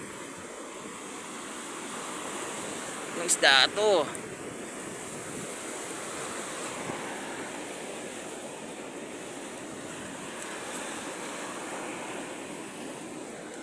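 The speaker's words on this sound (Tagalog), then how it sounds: "Ang lakas ng alon dito" Strong ocean surf pounds a beach in steady, loud wash with gusting wind noise on the microphone throughout; someone speaks briefly over it partway through.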